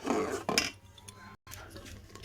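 Spoon clinking and scraping against a pot while rice kheer (payesh) is stirred, a few bright metallic clinks early then softer scraping, close and moderately loud with a brief silent gap.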